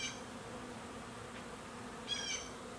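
Honey bees buzz steadily around hives on a warm August afternoon near fig trees, a soft continuous drone at moderate distance with a brief brighter burst of wingbeats close by near the end.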